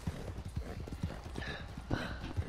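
Horse hooves clip-clop in the video game Red Dead Redemption 2, a steady rhythmic trot of soft thuds, close and fairly quiet, with no talk over it.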